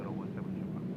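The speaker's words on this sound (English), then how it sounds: "A long A380 takeoff roll, followed by hopefully a very short 747 takeoff roll." An A380 or 747 airliner on its takeoff roll at Seoul Incheon Airport gives a steady, broad engine roar with a low hum, heard from a distance at moderate level without a break.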